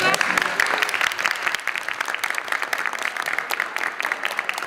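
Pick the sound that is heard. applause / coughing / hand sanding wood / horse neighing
applause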